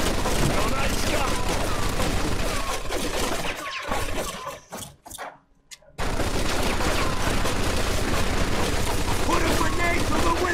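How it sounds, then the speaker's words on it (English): Dense automatic machine gun fire and other gunshots in the Mafia II video game, a loud continuous barrage that drops out briefly midway before resuming, with a player's voice speaking over the battle. "Looks like we found the machine gun."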